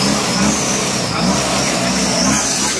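A turbo race car accelerates hard down a drag strip, a loud sustained engine roar held close throughout the short run.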